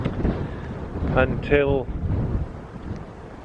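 Gusty wind buffets the microphone outdoors in Lancashire beside a statue, a loud rough rumble running under a man's speech throughout.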